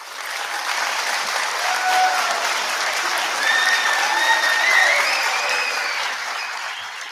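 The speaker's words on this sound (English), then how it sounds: "Can we give the teachers a round of applause, please?" Graduation ceremony audience applauds the teachers, a long, even stretch of crowd clapping with a few faint whistles or cheers on top, swelling slightly before tapering off.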